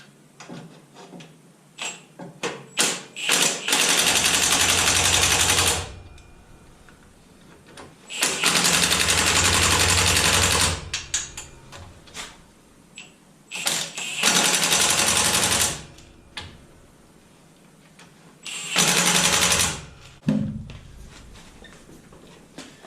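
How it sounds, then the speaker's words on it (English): Milwaukee impact wrench, used while mounting a winch on a zero-turn mower, fires in four loud sustained bursts of a few seconds each, separated by quieter clicking and handling noise, with no talking. "these Milwaukee impacts are awesome"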